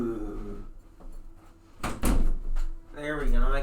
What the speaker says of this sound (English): I can shut the door and I don't gotta worry about her.